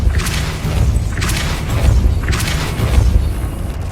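Several Depulso force spells are cast in the Hogwarts Legacy video game, each a loud, booming blast with a crackling burst, repeating about every second over a continuous low game rumble.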